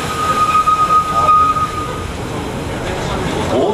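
Tokyo DisneySea Electric Railway train pulling into American Waterfront station: a loud rolling rumble with a brief high brake squeal early on, settling into steady rail noise, with an onboard announcement voice over it.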